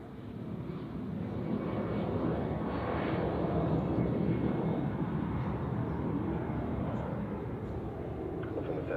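Airliner taking off from runway 16 at Zurich Airport in fog, heard as a steady, broad jet engine roar from a distance that holds constant throughout with no breaks.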